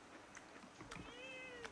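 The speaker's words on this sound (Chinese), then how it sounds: "你喵喵喵的叫，你吃不吃煎蛋嘛？" A small cat gives a quiet, drawn-out meow near the middle, fairly faint and close, with low room noise around it.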